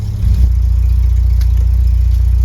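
An MK2 Golf GTI engine idling close by with a loud, steady low rumble that holds an even, throbbing pulse throughout, with no voices.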